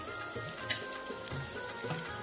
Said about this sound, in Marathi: त्याच्यानंतर त्यात आपण बारीक चिरेला कांदा घालून घेऊ.